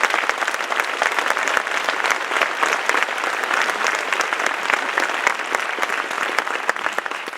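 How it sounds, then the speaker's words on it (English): A crowd at a senior awards ceremony applauds the faculty and staff, with dense, steady clapping from many hands continuing throughout at an even level. "everyone give our staff a big round of applause for the time they put in"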